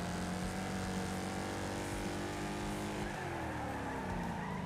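A race car in Wreckfest brakes late and skids, its engine droning steadily with tires squealing and scrubbing near and continuous, and no talk over it.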